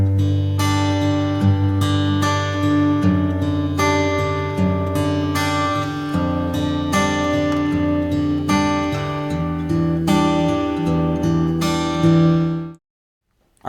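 Fingerpicked acoustic guitar plays a simplified version of pattern 8.5 over a descending chord progression, with rolling plucked notes above a ringing bass line, close and even, before stopping cleanly into silence.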